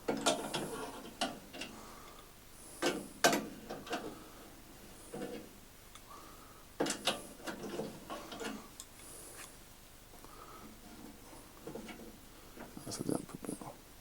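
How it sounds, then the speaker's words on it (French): A nut under a panel saw table is unscrewed to level it, producing repeated ratcheting clicks and metallic mechanism noises in short bursts, with quiet workshop ambience between them. "je vais dévisser jusqu'à ce qu'on ait un niveau qui soit acceptable"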